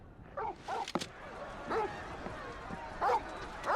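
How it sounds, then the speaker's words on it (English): A dog barks in short, sharp bursts, a few yips and whimpering notes spaced irregularly and fairly close, with a voice speaking briefly between them. "He's barking a lot."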